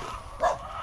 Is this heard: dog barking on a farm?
yes